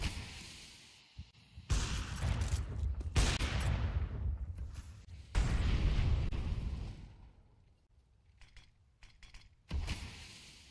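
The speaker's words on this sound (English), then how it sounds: "A single flashbang to take control over top banana" A flashbang goes off during a Counter-Strike match, amid loud, close bursts of gunfire and explosive blasts that come in several heavy waves with short lulls between them.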